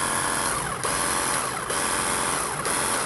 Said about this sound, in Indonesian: Ini kalau kita lihat masih menggunakan motor dinamo brushless